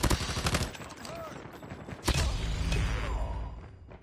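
Rapid automated sentry gun fire in Call of Duty Mobile, loud repeated bursts of shots with sharp cracks, layered over game voice callouts and ongoing battle noise.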